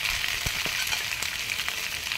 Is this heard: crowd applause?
no